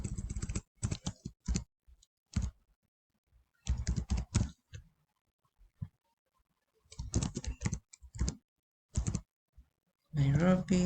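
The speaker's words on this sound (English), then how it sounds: "So put in your address and then click on next" Someone types an address on a computer keyboard in quick, clattering bursts of keystrokes, close to the listener, with silent pauses between runs.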